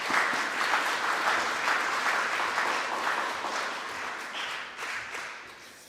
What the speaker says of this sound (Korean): 우리 박수로 맞이하시겠습니다.